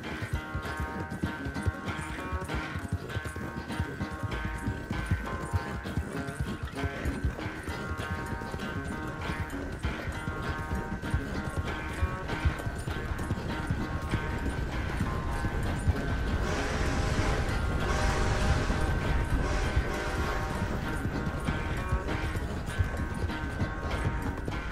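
Galloping horse in Red Dead Redemption 2, hooves clip-clopping at a steady fast rhythm through most of the stretch, set under a continuous layer of game music and ambience.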